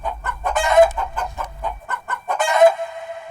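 A chicken clucks in a rapid series of close, loud calls on a farm, with a low background rumble fading out midway.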